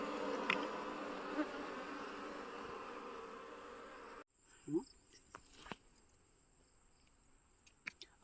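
Honey bees swarm after their field hive's honey has been harvested, giving a close, dense buzzing for several seconds that then drops to scattered faint buzzes and light knocks.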